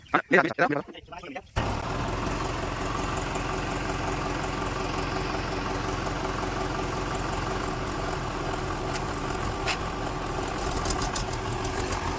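A tractor engine idles steadily on a farm trip, a continuous low rumble that runs nearly the whole time after a short burst of louder handling noise at the start.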